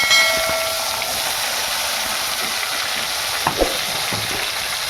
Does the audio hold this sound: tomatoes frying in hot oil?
yes